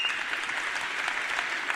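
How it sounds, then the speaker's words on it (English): Audience applause at a live event: steady, dense clapping from a crowd, continuous and fairly even throughout, with no voices over it. "Give her a round of applause."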